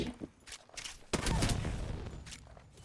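Gunfire from the Apex Legends video game, an irregular burst of sharp shots with a dense sustained stretch of rapid fire in the second half, loud and close.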